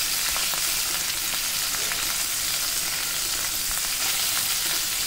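Capsicum and onion petals sizzle steadily in a hot pan over a low flame, a continuous bright crackling fry with occasional sharper pops and a stir, heard alone without talk.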